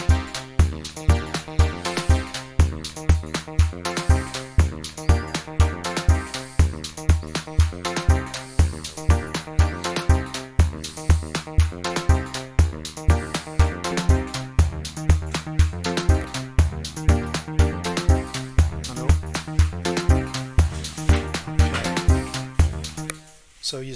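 Two mawk synthesizers driven by a Keystep Pro play a dense, rhythmic sequenced pattern of repeating pulsing notes across four tracks, loud and continuous with no talk.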